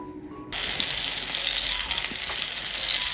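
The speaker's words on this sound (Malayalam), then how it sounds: "ഒരു വശം ചെറുതായിട്ട് ഒന്ന് ഫ്രൈ ആകുമ്പോൾ തിരിച്ചിട്ട് കൊടുക്കാം." Tomato and onion drop into a tablespoon of hot oil and burst into a loud, steady sizzle after a brief quiet start, the crackle staying close and even to the end.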